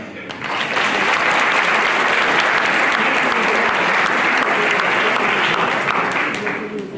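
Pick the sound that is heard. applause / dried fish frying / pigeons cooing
applause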